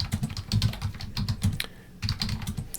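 Rapid, uneven clatter of typing on a computer keyboard in a biostatistics computer lab, keys pressed in quick bursts with short pauses, fairly close and with no one talking.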